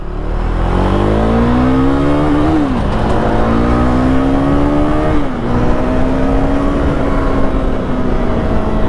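Husqvarna Svartpilen 401 motorcycle engine while riding, a loud close drone that climbs in pitch through the gears, dropping sharply at each upshift and settling into a steady roar.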